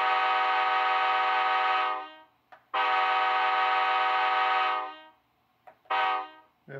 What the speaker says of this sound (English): F2 a horn.